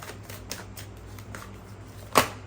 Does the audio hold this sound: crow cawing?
no